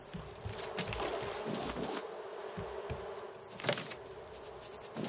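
Bees buzz around a beehive on a raft in the Raft video game, a soft continuous droning hum with brief louder swells as they pass close.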